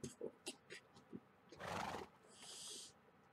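Horse whinnying in Minecraft, a loud blaring neigh mid-clip followed by a higher drawn-out whinny, amid footstep-like thumps and faint game background noise.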